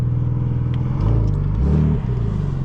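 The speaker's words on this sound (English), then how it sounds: "You can right away hear that exhaust opening up." A Porsche 911 Turbo S (992) with an Akrapovic exhaust idles with a deep, throaty exhaust rumble that swells louder partway through as the exhaust opens in sport mode, close by and steady.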